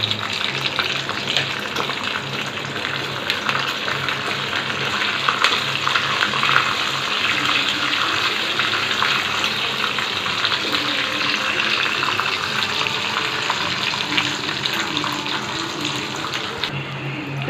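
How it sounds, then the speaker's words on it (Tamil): Cashews and raisins fry in melted ghee for sweet pongal, giving a steady, close hiss and crackle that runs the whole way through without talk. "நெய் உருக்கிட்டு இருக்கேன். முந்திரி பருப்பு, திராட்சை வறுத்து அந்த சக்கரை பொங்கலில் போடுறதுக்காக."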